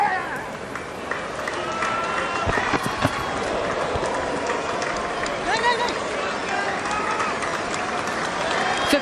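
A cricket team applauds from the change room during a Pakistan versus South Africa Test match, a steady, moderately distant patter of clapping and crowd noise lasting throughout with no one talking.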